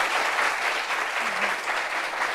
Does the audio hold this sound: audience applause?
yes